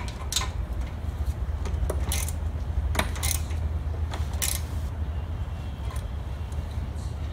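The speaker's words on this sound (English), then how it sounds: "grab a regular wrench" A wrench turning bolts on the headers of an LS1-swapped Nissan 240sx S14 drift car, giving irregular faint metallic clicks and ratcheting ticks against a low steady hum, with no talking.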